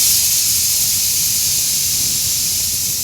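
A small pressure cooker vents steam through its whistle, giving a loud, steady, airy hiss that holds unbroken and close.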